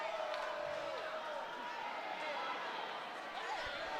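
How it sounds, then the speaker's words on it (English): Indoor crowd noise at a high school boys basketball game in a gym, a steady dense murmur with scattered shouts and whoops throughout, voices mixed into the broad din. "the crowds are kind of pushing the court and getting a little loud"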